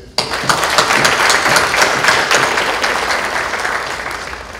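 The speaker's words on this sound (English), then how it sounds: "A big clap for them." An audience bursts into clapping at a formal conference event, dense and sustained applause from a large room that fades slightly toward the end, with no voices over it.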